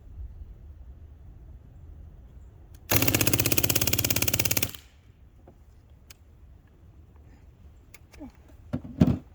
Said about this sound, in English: I'm going to do a full auto test at 11 yards and then show you that group